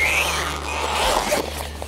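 Velcro fastener on a portable solar panel being pulled open, a continuous rasping tear that runs close and fairly loud across the whole stretch, with no talk.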